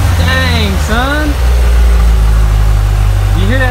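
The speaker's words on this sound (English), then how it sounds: "You hear that supercharger whining?" The supercharged engine of a wrecked and rebuilt 2017 Corvette Z06 runs loud and close, a steady low rumble with a rising and falling high whine, and someone talks over it.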